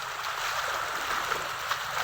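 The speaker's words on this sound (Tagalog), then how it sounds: "Malakas na naman ang agos." A strong river current, a continuous rushing wash of moving water, steady and fairly close, with small gurgles breaking the surface.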